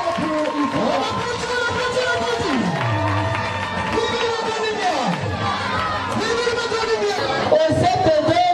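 A school prize-giving audience cheers and shouts loudly for the top pupil of the class, a dense, continuous roar of many voices, children among them, with some clapping buried in it for the whole stretch.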